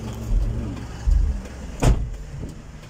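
An Isuzu truck, not a van-bodied one, is driven across toward a warehouse for loading, its engine rumbling steadily nearby with a few louder low thumps and a brief sharp burst partway through.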